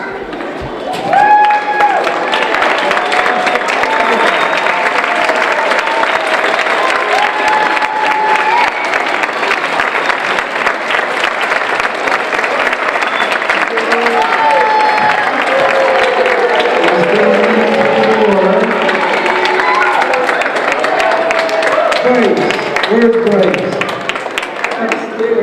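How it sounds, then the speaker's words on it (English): Loud, sustained applause and cheering from a crowd at a university chemistry magic show as students return to the stage, continuous clapping for over twenty seconds with shouts and voices mixed in. "we'd like to ask the students to come back up on stage to get a round of applause for"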